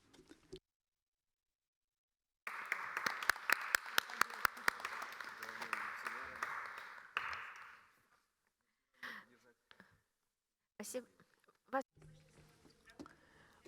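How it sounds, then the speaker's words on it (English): A round of applause at a roundtable on fish infrastructure and logistics, a few seconds of close clapping with some sharp individual claps, then quiet gaps broken by brief talk. "we will give you a round of applause"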